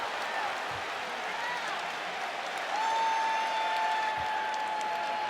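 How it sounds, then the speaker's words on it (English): Basketball arena crowd during an NBA playoff game, Timberwolves versus Thunder, roaring and cheering steadily throughout, swelling louder about halfway through, with a faint sustained tone over the noise. "this crowd loving every bit of it"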